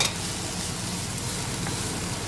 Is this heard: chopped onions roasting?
yes